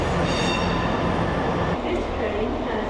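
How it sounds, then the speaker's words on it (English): Interior rumble of a two-carriage Northern train on the way to Sheffield, a constant loud roar of wheels and motors with a change in tone partway through as the ride continues. "This train has 2 carriages."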